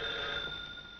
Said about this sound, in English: Albert, why don't you get the phone?